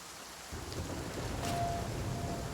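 Thunderstorm with rain in the river-survival game The Flame in the Flood: steady heavy rain hisses across the whole stretch, with a low rolling rumble of thunder building partway through. No voices are heard.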